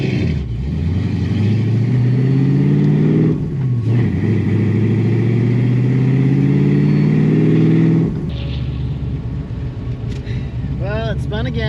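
A white Fox Body car makes a drag strip test pass at National Trail, with a loud engine climbing steadily through the revs as the tires spin. It briefly dips, keeps roaring, then cuts off abruptly and leaves a rumbling idle with faint chirps.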